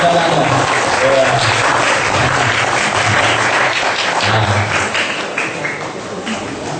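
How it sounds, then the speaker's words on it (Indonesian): An audience at a Dhamma talk gathering claps in sustained, dense applause that fades slightly toward the end, loud and close, with voices mixed in. "Tepuk tangan untuk papa kita."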